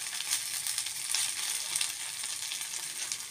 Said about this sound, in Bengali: গরম গরম ভেজে নেবো এখন আমি।